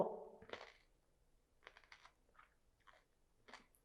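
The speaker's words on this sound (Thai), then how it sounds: "เคี้ยวเสียงดังมากๆ" Close, crunchy chewing of raw cucumber: one loud bite followed by a run of softer, irregular crisp crunches and mouth clicks, near and isolated in a quiet room.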